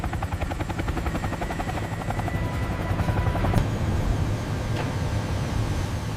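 A military helicopter flies overhead with a loud, steady rotor thrum and turbine whine that holds for the full six seconds without a break.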